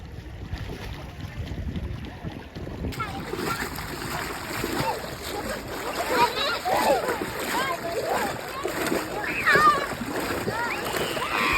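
People bathing in the Chandrabhaga river at Pandharpur splash steadily in the water nearby, with voices talking over the continuous sloshing and some wind.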